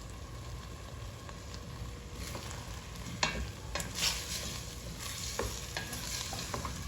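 Spices are stirred in a pot for Turkish lentil soup, giving a soft, continuous fry hiss broken by a few scraping spoon knocks.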